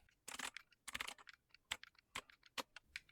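Quick, uneven keystrokes clack on a computer keyboard close up, in short clustered bursts with brief gaps between them, fairly quiet and with no one speaking.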